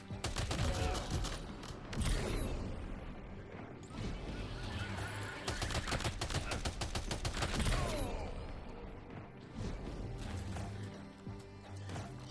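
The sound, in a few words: machine gun firing in video game Death Stranding 2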